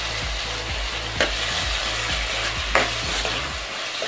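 Onions and tomatoes cooking down in a pan for a prawn gravy, a steady close sizzle with a few louder clatters of a spoon stirring, and no talk.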